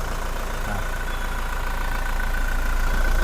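A 2019 Toyota Revo 2.4 J-Plus four-door pickup idles with the air conditioning running, a steady close-up engine drone and hum holding even for the whole stretch with no talk.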